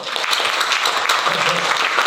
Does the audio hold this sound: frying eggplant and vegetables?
no